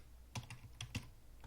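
Someone types a new password on a computer keyboard: a quick, faint burst of about five close key clicks in an uneven rhythm.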